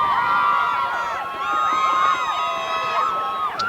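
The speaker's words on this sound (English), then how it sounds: "The Matawan crowd likes the effort of the Huskies defense" Home crowd at a Matawan versus Neptune high school football game cheering the Huskies defense, a steady roar of many voices with whoops and high shouts rising and falling throughout, fairly loud and close.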